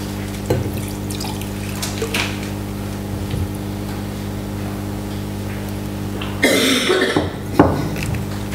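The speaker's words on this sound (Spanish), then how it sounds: "un poco de agua, si me permitís." Water is poured into a glass near the mic at a conference talk, a short splashing burst that follows a low hum and a few small throat sounds, with no speech.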